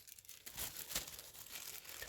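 A plastic bag crinkles and rustles close up during leaf suit crafting for airsoft, with quiet, irregular crackling bursts and no talking.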